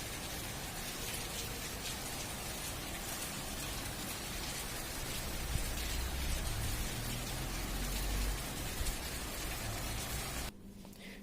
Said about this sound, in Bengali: সকাল থেকে অনেক বৃষ্টি হচ্ছে আজ।